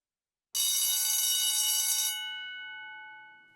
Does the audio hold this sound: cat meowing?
no